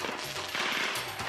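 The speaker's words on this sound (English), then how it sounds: "Fireworks explode on a suburban street." Rapid bursts of crackling fireworks explode on a suburban street in Lakewood, California, sharp and fairly close, going off in quick succession like a string.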